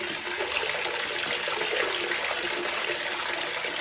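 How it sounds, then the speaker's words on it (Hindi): High-pressure tap water gushes into a bucket, a loud, steady roar of splashing water with no break. "मैं इसको खोलूंगा ना तो मैंने कम से कम, एक्चुअली इसका प्रेशर इतना ज़्यादा है"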